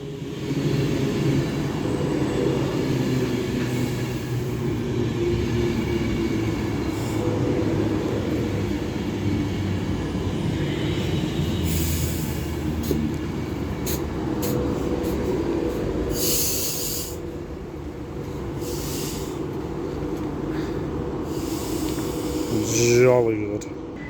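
A Class 390 electric train, unit 390-157, rumbles past at Stoke-on-Trent station on the West Coast Main Line, a steady continuous roar of rolling wagons with a rising whine near the end and faint talk beneath.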